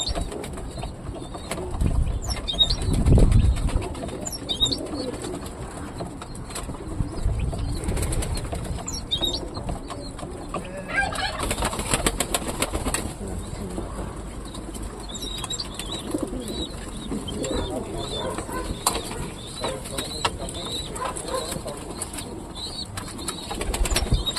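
Pigeons in a coop being fed, with wings flapping in bursts and soft cooing and chirps scattered throughout, fairly close.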